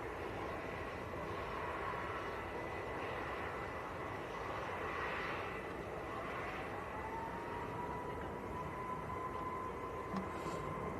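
Airliner taxiing at Manchester Airport, a steady, fairly distant engine hum and broadband rush that holds evenly throughout with no voices.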